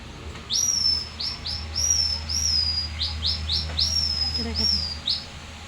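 A series of high, clear whistled calls from a small bamboo whistle imitating birds, some rising and some flat, repeating at a steady pace over a quiet background hum.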